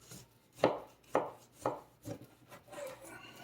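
Knife chopping through strip loin steak on a board, five distinct firm thuds spaced about half a second apart, close and clear, followed by quieter handling noise, no talking.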